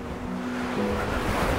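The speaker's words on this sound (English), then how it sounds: "the wind is really strong" Strong wind gusts buffet the microphone beside a river crossing along the Cumbria Way between Caldbeck and Carlisle, a steady low roar that swells slightly in the second half, with no voices.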